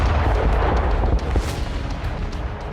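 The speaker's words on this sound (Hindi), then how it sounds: "जबरदस्त धमाके की वजह से पूरा इलाका ध्वस्त हो गया।" A missile strike explodes over a Ukrainian army position about 20 kilometres from Marinka. A heavy, rumbling blast swells into a sharp burst midway, then a rolling low roar decays gradually, loud and close, with no voices.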